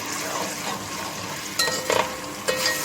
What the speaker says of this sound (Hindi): हाफ कप दही डाल के इसको भी मिक्स करेंगे अच्छे से